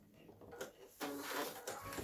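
A sewing machine stitches quilt binding out to a point in a few short, quiet bursts of mechanical whirring, the longest starting midway.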